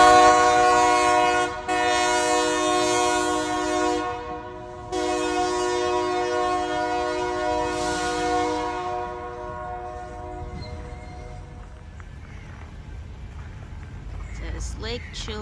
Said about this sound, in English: Train's going by again.